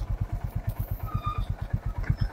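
A motorcycle engine idles close by with a fast, even pulsing thump, steady throughout the short stretch with no talk over it.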